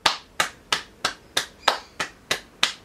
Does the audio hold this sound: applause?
yes